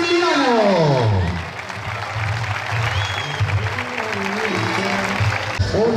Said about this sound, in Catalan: Un fort aplaudiment fantàstic al Premi Xavier